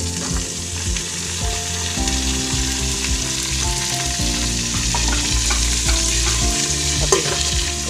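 Tomatoes frying in a pan over a village cooking fire, a steady dense sizzle with intermittent stirring scrapes and clinks, close and continuous without any talking.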